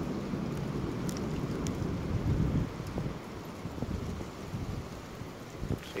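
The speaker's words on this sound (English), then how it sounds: "See, there's the wind kicking in." Outdoor wind blows steadily in a continuous broadband rush, with gusts and low rumbling buffeting against the microphone throughout, fairly loud and unbroken with no talking.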